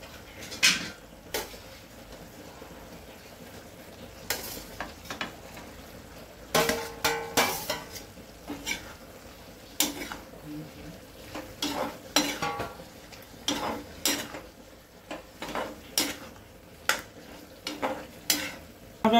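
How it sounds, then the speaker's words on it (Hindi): A spoon stirs a frying potato and cauliflower curry in a pan, with repeated scraping knocks against the metal at an uneven rhythm over a soft, steady sizzle. "अब हमारे मसाले ने रोगन जो है तेल ये सब छोड़ दिया है, सब इसमें हम अपने सब्जी को ऐड कर देंगे।"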